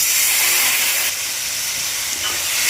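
Water added to spices in a hot pan, while cooking a taro and small-fish curry, sets off a loud, close, broad hissing sizzle that holds steady and shifts slightly as it settles.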